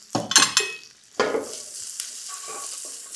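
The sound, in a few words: vegetables (onion, carrot, cabbage, capsicum) stir-frying in pan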